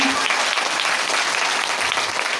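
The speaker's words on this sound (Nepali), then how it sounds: "यस्तो महान परमेश्वर पितालाई एकचोटि शिर माथि हात लगाएर ताली बजाउनुपर्छ" A congregation claps loudly in praise during a Christian worship gathering, a dense, sustained burst of applause heard close and continuous for the whole stretch.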